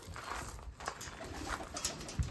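Pigeons in a pigeon loft give soft, low coos amid light fluttering and shuffling patter, a few calls standing out near the end over a steady quiet background.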